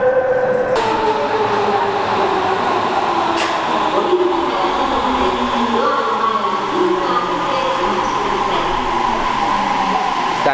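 A subway train rumbles loudly past a platform in Sapporo, Japan, with a rising and falling whine of motors and a steady metallic roar throughout.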